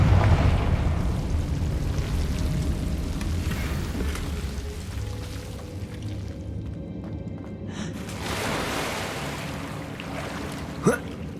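A Confringo explosion spell in Hogwarts Legacy, heard as a loud, sustained roaring blast with a rumbling, rain-like crackle that dips midway and swells again, ending with a sharp high zing.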